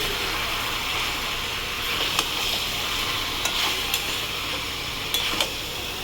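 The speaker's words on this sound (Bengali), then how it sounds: "এবার এটাকে নাড়াচাড়া করবো" Chicken coated in chilli powder and turmeric sizzles steadily in a pan, with a few sharp clicks of a utensil scraping and stirring near the mic, no talking.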